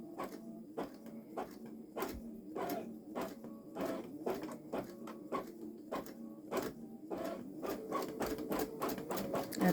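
A Babylock Solaris Vision embroidery machine sews very long stitches for a quilt, its mechanical stitching running steadily with regular sharp needle strikes, close and clear with no talking.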